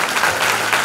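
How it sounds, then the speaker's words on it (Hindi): A church congregation claps together during a Christmas sermon, a dense, steady wash of applause filling the short moment with no voices over it. "कि जने तो ताली मारिबा पे आरंभ करितला"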